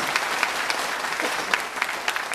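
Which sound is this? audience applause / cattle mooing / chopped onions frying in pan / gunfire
audience applause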